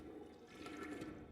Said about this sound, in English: We can flush the toilet.